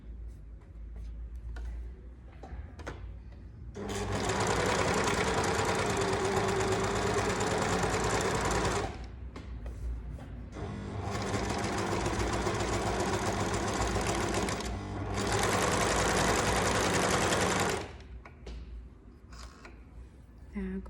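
An overlock machine stitches a rolled hem in two loud, steady bursts of rapid mechanical whirring, each several seconds long, with a short pause and quieter handling noise between them and before and after.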